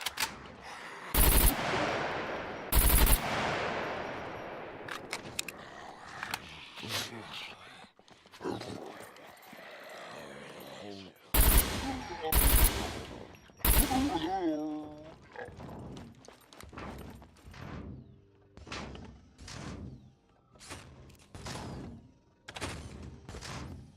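During a fight with a soldier in SCUM, several loud gunshots ring out: a pair early on, a pair around the middle, then a quicker run of lighter shots and clatter, with someone talking between them.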